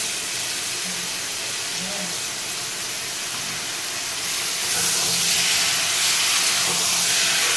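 Ginger, cumin and chilli pastes sizzle in a pan for egg curry, a steady loud hiss that swells louder midway and keeps going on its own.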